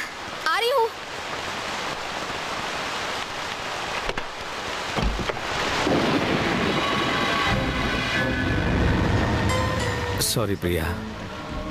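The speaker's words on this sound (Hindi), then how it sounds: "अचानक बारिश होने लगी" A sudden rain shower, a dense steady hiss that fills the whole clip, with a louder swell partway through and brief talk near the start.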